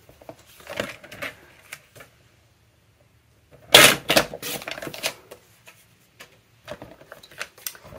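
Scissors cutting paper pieces for a popup mini album, heard as a few sharp, close snips and crisp paper rustles in short bursts separated by quiet pauses.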